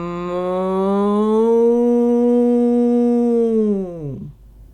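A human voice imitates a cow with one long, low, sustained moo that swells and then drops off at the end, close and loud.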